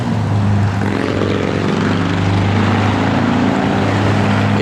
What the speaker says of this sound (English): good sounding H-pipe dual exhaust system in it